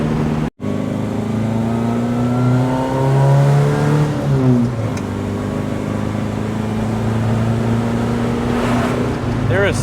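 A bagged mini truck driving down the road, its small engine droning loudly and revving with the pitch climbing and sagging, continuous and close without any voices.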